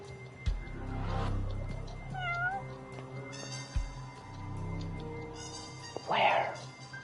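A cat meows a few times inside the Judgment video game, a short high-pitched call near the end cutting through game music and background ambience while someone talks over it.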